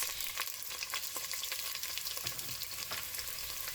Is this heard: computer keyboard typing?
no